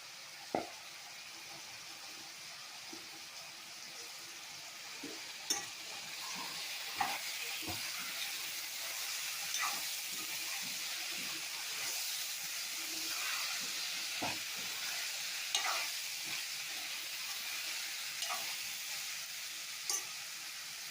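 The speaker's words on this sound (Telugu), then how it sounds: "రైస్ అంతా మనం ఎంత తీసుకున్నాం అంత రైస్ యాడ్ చేసేసి జస్ట్ అటు ఇటు కలిపేస్తే చాలు." Soaked rice stirred and tossed in a frying pan, giving a steady hiss of steam and sizzle with scattered scraping clicks of the spoon, close and continuous with no talking.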